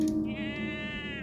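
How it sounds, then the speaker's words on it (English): A sheep bleats in a video game, a single sustained, wavering bleat that sounds close and fairly loud, set over a steady background of game ambience with a brief sharper noise at the start. "That was a sheep."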